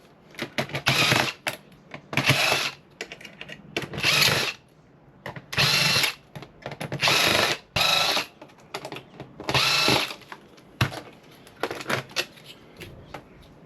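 Power drill backing screws out of a server's copper alloy heatsink during scrap teardown, in about eight loud whirring bursts of roughly a second each, with short quiet gaps between them.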